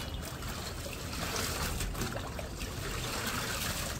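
Herbal bath water with turmeric and tulsi leaves is stirred by hand, giving a steady wash of sloshing, trickling liquid that stays fairly close and even throughout, with no talking.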